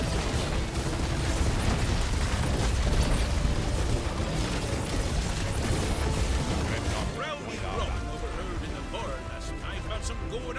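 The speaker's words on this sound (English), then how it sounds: "quick bombing run." Bombing-run explosions in the sci-fi real-time strategy game Zerospace form a loud, dense wash of blasts and rumbling impacts that later thins into mechanical clatter, with game voices and battle noise mixed in.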